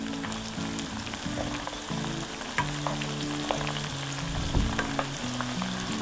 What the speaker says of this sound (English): Fry all the ingredients on low heat for about 10 minutes.